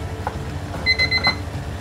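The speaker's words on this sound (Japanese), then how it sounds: "タイマー鳴りました。" A kitchen timer goes off during one-pan pasta cooking, giving a brief run of bright electronic beeps over quiet background noise.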